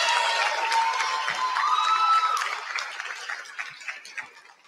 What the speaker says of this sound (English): Can we all give a round of applause for Maddie?